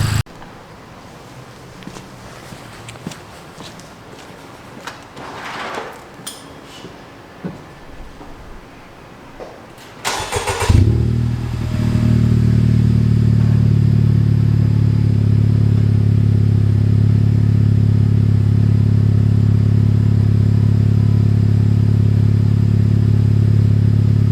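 A 10th-generation Honda Civic Type R FK8 sits quiet under faint background noise, then its engine fires up about halfway through and settles into a loud, steady running hum nearby.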